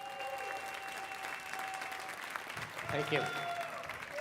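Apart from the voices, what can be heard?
audience applause for a speaker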